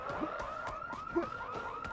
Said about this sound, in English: Another car alarm.